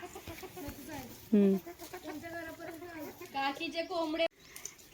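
A rooster at a house makes a few short clucking calls, with one louder burst near the middle, while people talk nearby.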